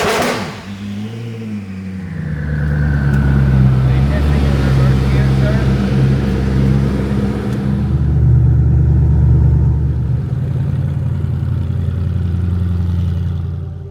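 Koenigsegg supercars, freshly detailed and coated, drive past with loud engine rumble that swells and revs, a deep throbbing exhaust note holding steady across the stretch with shifts in pitch as they accelerate.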